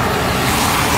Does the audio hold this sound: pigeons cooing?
no